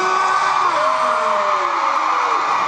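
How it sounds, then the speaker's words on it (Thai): Fans at a DMD3 fan meeting scream together in a loud, continuous shrill roar, with a single voice whooping up and down above the crowd. "ขอเสียงกรี๊ดให้นักเรียนของครูอีกรอบหนึ่งค่ะ"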